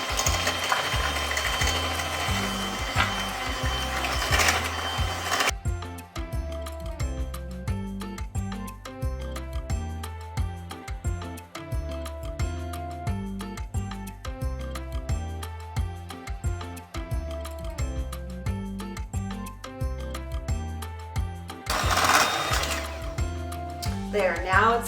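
An electric mixer beats eggs into ricotta lemon olive oil cake batter with a rapid, ratcheting mechanical whir that runs steadily through most of the stretch, with louder bursts at the start and end.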